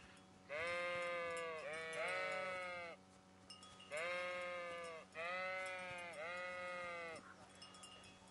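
Video game sheep in Kingdom Come: Deliverance bleat in long wavering calls, four in two pairs separated by short pauses, clear and close over a faint steady hum.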